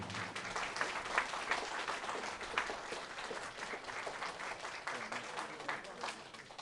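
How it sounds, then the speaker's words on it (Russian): Audience applause greets the vocalists from the southern coast of Crimea at a jazz concert, a dense, steady wash of many hands clapping that keeps up evenly from start to finish. "Встречайте аплодисментами"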